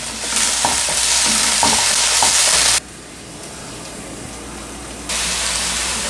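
Half a kilogram of minced meat sizzles in a pan of browned onions while a spoon scrapes and stirs. The frying hiss is loud and close, dips briefly, then surges again.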